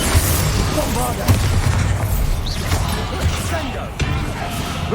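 Bombarda blasting spell cast in the Hogwarts Legacy video game, a loud booming blast with crashing bursts and thuds amid busy combat effects, with a voice speaking over it.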